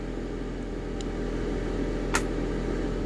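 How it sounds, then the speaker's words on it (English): An EcoFlow Delta Pro 3 power station's cooling fan spinning up under heavy inverter load from a kettle, a steady broadband whir that holds throughout, with a brief click partway through. "You can hear the fan kicking up."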